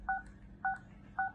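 Keypad tones on a Jio Bharat V2 feature phone: three short, evenly spaced electronic beeps from button presses, clear and close against a quiet background.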